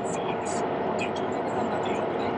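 A subway train in motion, giving a steady, loud rumbling roar with occasional higher squeals from the wheels and rails, and people talking under the noise.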